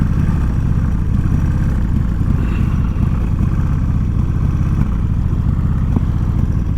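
A motorcycle engine that has sat unused for a long time runs rough, a loud, steady low rumble with uneven pulsing throughout, close up and with no voices.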